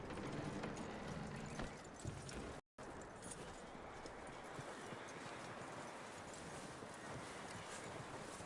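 Horse hooves clip-clop at a steady walking pace in the Red Dead Redemption 2 video game, a continuous rhythm of fairly close hoof falls over ambient noise, with a brief dropout partway through.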